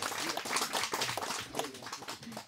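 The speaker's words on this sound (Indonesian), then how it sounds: "Kita berikan tepuk tangan." Audience applause welcoming the village head at the opening speeches of a World Food Day celebration in Tambora, a dense steady patter of many hands clapping throughout, with faint voices mixed in.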